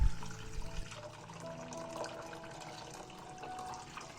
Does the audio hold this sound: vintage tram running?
no